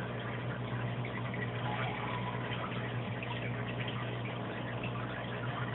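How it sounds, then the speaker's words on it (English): Water trickles and splashes continuously into an aquarium sump below an Eshopps PF 1000 overflow box, a faint, steady patter over a low pump hum with no voices. "I really don't like the dripping sound at all."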